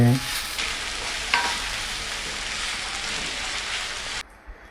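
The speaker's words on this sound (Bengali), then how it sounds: "এবার পেঁয়াজটা তেলে ভালো করে নাড়াচাড়া করে নিতে হবে।" Chopped onions frying in hot oil, a loud steady sizzle with a few clicks of stirring near the start, cut off abruptly before the end.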